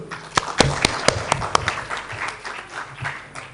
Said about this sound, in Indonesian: Kita beri tepuk tangan untuk kita semua dulu